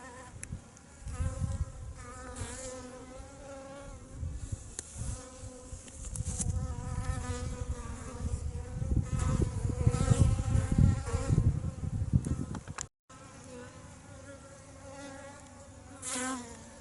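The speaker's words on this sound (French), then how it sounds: "Vous voyez, il y a beaucoup d'abeilles." Many honeybees buzz close by at an apiary in February in a dense, continuous drone that swells and fades as insects fly past, with no voices.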